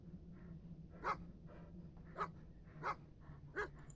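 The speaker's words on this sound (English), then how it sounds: "This dog is named Hello." A dog in the video game Stay Out of the House barks four times in sharp, evenly spaced yelps with faint whimpering between them, set against a steady low hum.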